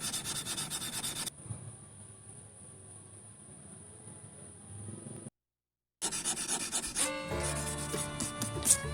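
A steel fish hook is filed and smoothed along its sides with dry, scratchy rasping strokes, heard close up. The strokes break off into a short silence, then resume more busily.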